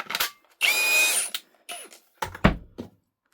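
A power drill mixes worms in a container in short bursts, revving on and off with scraping and knocking between runs, close by.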